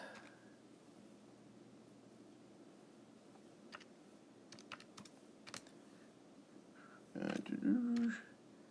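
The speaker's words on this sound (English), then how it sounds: "taking a minute to type this in" Faint keyboard typing, a few scattered soft keystroke clicks over a quiet room background, with a voice briefly speaking near the end.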